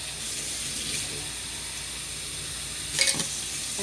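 Hot soapy water poured into baby bottle nipples used for bottle-feeding kittens, giving a steady hissing, splashing stream with a brief sharper clatter near the end and no voices.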